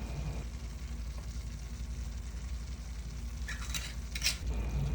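Sardines frying in rum in a pan give a steady, close sizzle with soft stirring scrapes, a brief brighter burst of crackle near the end.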